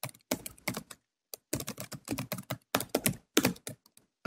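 Typing on a computer keyboard, quick close bursts of key clicks separated by short pauses, clear against a silent background.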